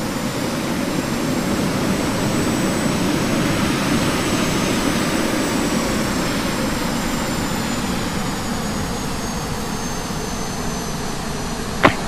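A Turkish Airlines Boeing 737-800 comes in to land, its jet engines making a steady, broad roar with a faint high whine that holds throughout, loud and continuous, with no voices.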